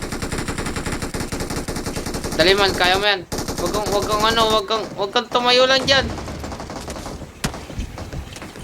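Rapid bursts of video game gunfire rattle on and off while a person talks excitedly over the shooting.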